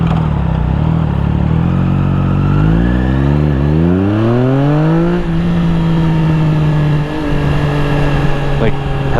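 A Triumph Daytona 660 with a BT Moto tune pulls hard at full throttle, its engine note climbing steeply in pitch, easing at a shift and then holding a loud, close drone with wind noise.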